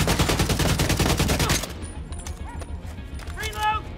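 Rapid automatic gunfire from a firefight in The Division 2 rattles in a dense burst for about a second and a half, then gives way to scattered game effects and chimes.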